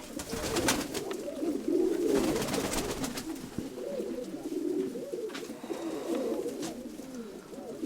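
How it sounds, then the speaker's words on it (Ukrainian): Several pigeons coo nearby in soft, rolling bursts that rise and fade, with faint rustling and background noise between calls. "Ну, так от вони тут сидять, голуби."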